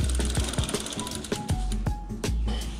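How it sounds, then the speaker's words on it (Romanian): Freshly cleaned bicycle chain clicking steadily through the drivetrain, a close, repeated ratcheting rhythm of mechanical ticks and whirs, alone without talk. "Ascultați lanțul și frumos aude."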